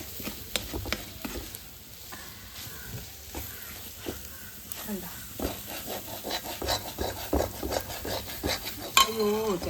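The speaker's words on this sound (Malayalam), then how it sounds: "വഴറ്റിയെടുക്കാം നല്ലോണം വരണ്ട് വരട്ടെ" Prawns with pepper being stirred and sautéed in an aluminium pan over high heat: a soft sizzle runs under repeated scraping and clinking of a spoon against the pan, close and moderately loud, with brief faint voice sounds near the end.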